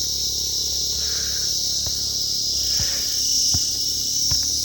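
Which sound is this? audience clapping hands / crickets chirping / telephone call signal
crickets chirping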